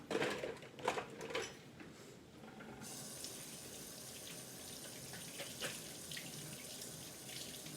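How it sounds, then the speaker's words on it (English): Hands washed under a running kitchen faucet: steady close water stream with splashing, louder hand movement early on, then an even continuous flow, no talking. "I am going to go ahead and wash my hands."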